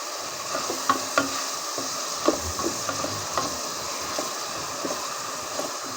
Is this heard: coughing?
no